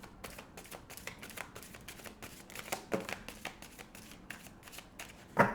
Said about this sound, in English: So we're going to shuffle this 11 times